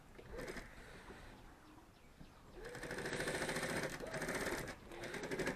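A sewing machine stitches cloth for a shopping bag, a fast, even mechanical whirr that starts soft and grows louder and steadier halfway through.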